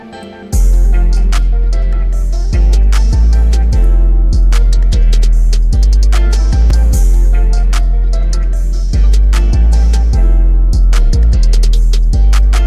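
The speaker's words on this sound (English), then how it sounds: "If Summer had a trap anthem, it would sound something like this." A summery trap beat instrumental pounds with a heavy, booming sub-bass, crisp rapid hi-hats and punchy drum hits over a steady melodic loop, playing loud and continuous with no voices.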